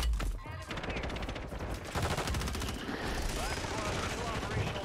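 Rapid automatic bursts of RAM-7 hipfire in Warzone 3, dense machine-gun rattling across several seconds with brief gaps and a loud opening shot, mixed with game effects and a voice talking.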